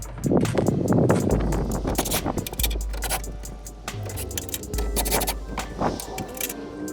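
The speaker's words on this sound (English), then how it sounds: "next thing we gotta do is take out 4 10mm bolts" Metal clinks and rattles up close as 10mm bolts come out of the grille on a 2007-2013 Chevy Silverado, short irregular taps over a low steady hum.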